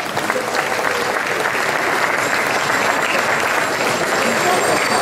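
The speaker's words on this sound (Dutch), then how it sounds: "Aan al deze mensen een dikke merci en een warm applaus voor hen." Warm applause for helpers at a brass band's gala ball, a loud, dense and steady roar of clapping from a large crowd that fills the room throughout, with a hum of voices underneath.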